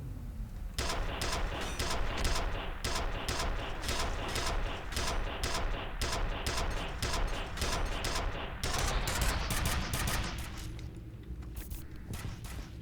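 Rapid bursts of video game gunfire crack out in a fast, sharp rhythm for about ten seconds, then cut off, leaving a lower rumble underneath.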